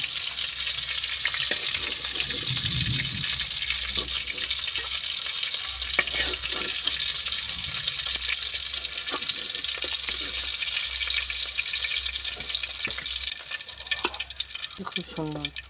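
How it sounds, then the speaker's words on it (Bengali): Fish fried in hot oil for a fish and potato curry, giving a steady sizzling hiss throughout, with occasional stirring clinks and a faint voice in the background. "মাছগুলো আমি ভালো করে ভেজে নিয়েছি, এবার আমি তুলে নেব"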